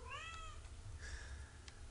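A cat meows a couple of times, short rising cries heard fairly faintly over a low background rumble.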